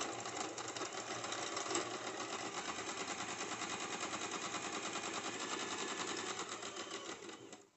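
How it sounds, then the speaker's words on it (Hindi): A sewing machine runs a continuous double line of stitching on the back of a pair of cigar pants, a steady rapid whir for about seven seconds that ends abruptly, close and fairly quiet. "और इस पे हम डबल सिलाई चला देंगे"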